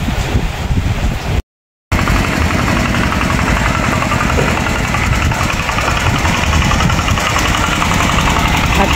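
A borrowed rice field machine runs at a steady idle, its engine droning loud and close with a constant rough vibration. The sound cuts out briefly near the start and then carries on unbroken.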